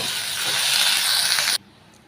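Grated coconut with coriander, curry leaves and asafoetida hisses in a hot pan, a loud bright sizzle lasting about a second and a half before cutting off sharply to near quiet.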